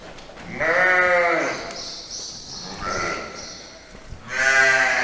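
Several sheep bleat close by in a barn pen with lambs, two long wavering calls and a shorter one between, with faint background noise of the enclosure.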